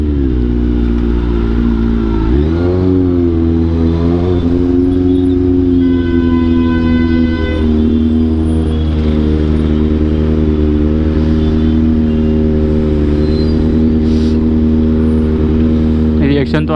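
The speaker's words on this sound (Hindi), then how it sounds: "एक तो बाइक का शोर बहुत ज़्यादा रहेगा अब इसमें।" Loud, noisy engine of a second-hand Kawasaki motorcycle with a fault, droning close by at idle, then revving up sharply after about two seconds and holding a high, harmonic roar.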